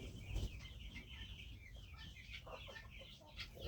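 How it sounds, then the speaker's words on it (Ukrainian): Faint clucking and soft chirping from chicks behind a wall sound muffled and somewhat distant, scattered irregularly over a low background. "Що ви там творите, курчата за стіною?"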